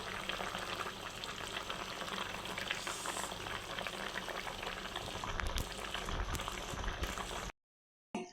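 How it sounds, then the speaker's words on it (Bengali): A curry of taro and hilsa fish boiling in a pot, with dense, continuous bubbling and a faint frying sizzle, close and steady before a brief silent gap near the end. "তরকারির ঝোলটা কিন্তু বলক এসে করছে।"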